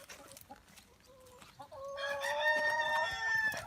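Several chickens clucking and calling close by, a few short clucks early on, then a louder, sustained chorus of overlapping calls filling the second half.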